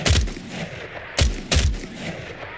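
Sterling SMG fire in Fallout 4, loaded with .38 rounds: three sharp, loud bursts, one near the start and two close together about a second later, each with a short decaying tail.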